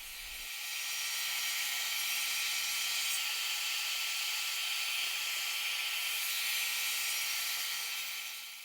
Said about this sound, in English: Using the micro adjuster on my radial arm saw, I can easily move the blade position to adjust the kerf width